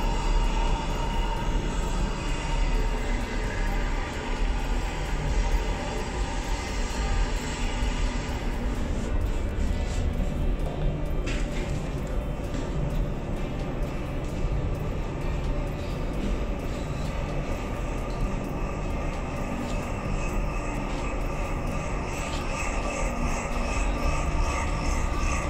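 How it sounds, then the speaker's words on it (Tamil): A ship's electro-hydraulic valve motor, running low on oil, hums steadily in an engine-room setting, a loud continuous mechanical drone with no pauses throughout. "ஸோ உங்களுக்கு ஆல்ரெடி சவுண்டு கேட்குது இல்லையா. ஸோ மோட்டார் வந்துட்டு ரன் ஆகுது."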